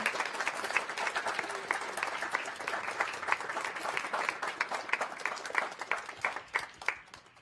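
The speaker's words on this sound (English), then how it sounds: "One more round of applause for those folks." A school concert audience applauds steadily, dense clapping from many hands that thins slightly toward the end.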